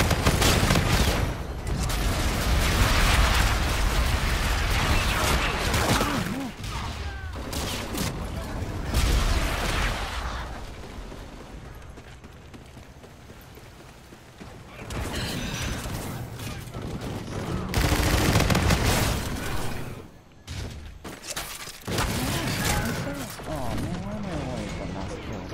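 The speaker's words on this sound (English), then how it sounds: "Enemy bombardment incoming." Explosions and bursts of gunfire from an enemy bombardment in Call of Duty: Infinite Warfare multiplayer, loud and dense with rumbling booms and brief lulls, overlaid by game voice callouts.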